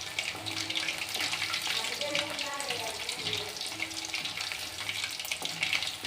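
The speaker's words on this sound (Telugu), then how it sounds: "మొత్తం అన్నీ ఇట్లా కలుపుతూనే ఉండాలి. అట్లా కలుపుతుంటే అన్నీ విడివిడిగా అయిపోయి తొందరగా ఫ్రై అవుతాయి." Chicken pakodi frying in hot oil gives a dense, steady sizzle while being stirred, close and continuous, with faint talking underneath.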